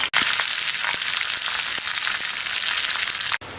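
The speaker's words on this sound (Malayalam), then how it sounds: "ഇനി ഞാൻ മുന്തിരിങ്ങ വഴറ്റാനായിട്ടിട്ടേക്കും കേട്ടോ" Raisins sautéing in hot fat in a pan for payasam, a loud continuous crackling sizzle with faint scraping, cutting off briefly near the end.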